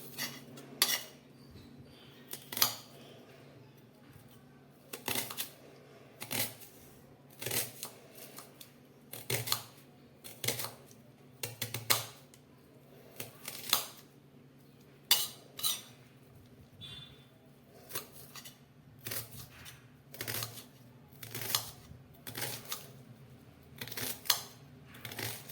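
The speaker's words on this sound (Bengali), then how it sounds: "এবার পেঁয়াজটাকে একদম সরু পাতলা করে করে আমি কেটে নেব।" Knife slicing peeled onion thinly on a board for mutton curry: repeated crisp chops in a steady, slightly uneven rhythm, close and fairly quiet over a low background hum.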